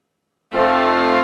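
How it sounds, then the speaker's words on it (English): Full choral ensemble sings Tallis Canon, a sustained harmonious chord entering abruptly after a short silence and holding steady. "you have a wave file of the full ensemble of Tallis Canon"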